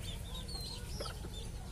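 Bantam chickens cluck softly at a distance over a steady low background hum, with a few short, scattered calls.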